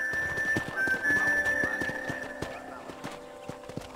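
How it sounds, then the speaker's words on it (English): A horse at a ranch in the video game Red Dead Redemption, with steady hoof clip-clops and a long whinny over a musical and ambient background, close and moderately loud. "I picked out a fine horse for you."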